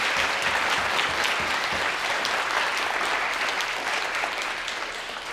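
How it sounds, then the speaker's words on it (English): An audience at a graduation celebration breaks into a sustained round of clapping, dense and even throughout, easing off slightly toward the end. "Can we just give a round of applause?"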